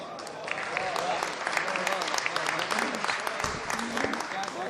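Sustained audience applause at a poetry book launch ceremony, a dense wash of clapping that holds steady for several seconds with a few voices mixed in.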